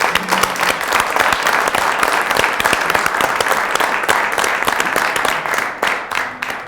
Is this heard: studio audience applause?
yes